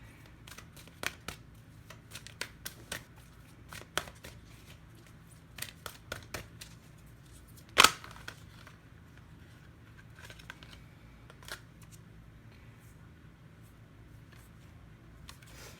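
Tarot cards being shuffled and drawn by hand, soft papery riffles and light taps scattered through a quiet room, with one sharper snap partway through.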